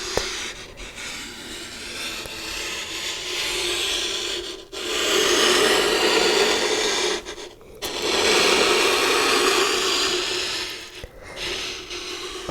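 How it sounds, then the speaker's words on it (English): Sand sphere ball gliding slowly across loose sand, a soft continuous rubbing hiss in long sweeping passes with brief pauses between, close and gentle with no talking. "When you let just the weight of the ball glide over the sand, it's a soft, gentle sound"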